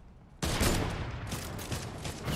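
Video game gunfire aimed at enemies far off, a sudden loud volley that starts after a quiet moment and continues as a sustained, crackling fusillade.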